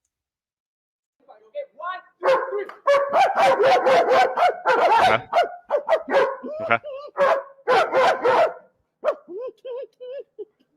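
A dog barking back and forth with a person who imitates barking: dense bursts of barks, yips and whimpering-like calls, loud and close, packed together over several seconds, with brief spoken words.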